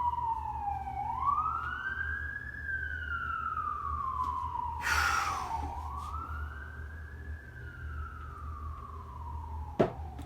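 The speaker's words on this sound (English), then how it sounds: "Sorry for the sirens out there." Distant sirens wail on a New York city street, rising and falling in long sweeps, with a brief burst of traffic noise midway and a low street rumble underneath.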